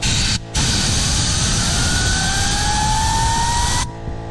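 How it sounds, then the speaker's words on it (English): Compressed air from an air compressor blasts steadily into the blower fans of a Jotul insert, a loud close hiss with a rising whine as the fans spin up, cut briefly near the start and at the end. "then the compressor turns on. You get these fans moving really well."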